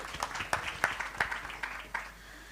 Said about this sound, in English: Round of applause again, please.